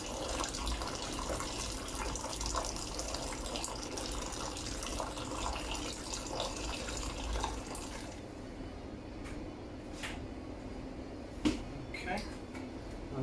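Cold water pours steadily into a percolated coffee pot outdoors for bush coffee, a continuous rushing splash for about eight seconds, then stops, leaving a few faint clinks and soft handling noises.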